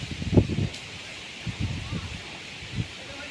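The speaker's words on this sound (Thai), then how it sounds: "ทำไมลมมันแรงจังเลย" Strong wind gusts through an open Thai countryside ahead of a rainstorm, rustling and buffeting in short uneven bursts over a constant airy hiss.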